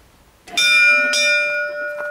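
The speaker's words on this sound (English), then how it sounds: "Let's ring the bell." Two bright ringing strikes of a doorbell at a closed door, close and loud, each tone lingering and fading slowly, with no talk.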